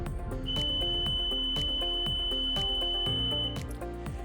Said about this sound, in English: the end of period buzzer went off